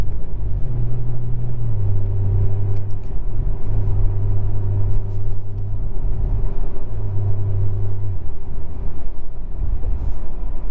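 2023 Audi RS5 Coupe engine accelerating from inside the cabin, a loud steady drone that steps in pitch through gear shifts over a constant road rumble.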